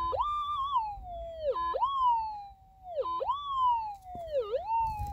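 Metal detector signal over a 7 gram gold nugget: a loud, clear warbling tone that dips low then sweeps up, repeating four times in a steady rhythm.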